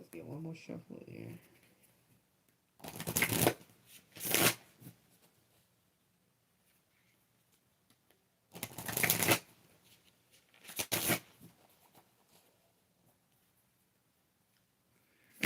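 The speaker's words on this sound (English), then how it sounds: "let's get one more shuffle here" Oracle cards being shuffled in two separate bursts of crisp riffling, each about two seconds long with a short gap inside, close and loud against a quiet room with faint talk at the start.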